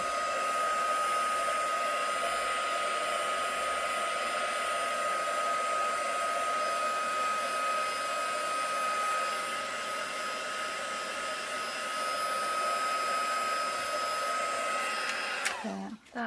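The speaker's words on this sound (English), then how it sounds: "Now I'm just going to give this a blast dry." A heat tool blasts hot air over inky craft cards in a constant loud whirring hiss that runs for about fifteen seconds without change and then cuts off abruptly near the end.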